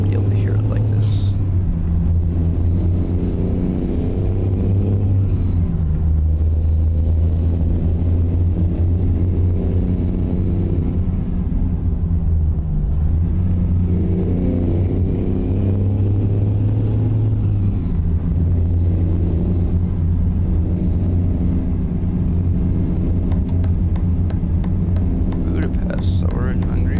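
A modded diesel truck engine in a driving game drones with a deep, steady rumble and low tonal hum, shifting in pitch as the load changes, loud and continuous throughout.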